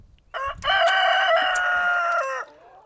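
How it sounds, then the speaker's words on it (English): Chickens crow loudly and alone, one long drawn-out cock-a-doodle-doo rising after a short opening call, with faint clucking beneath. "these mouthy chickens"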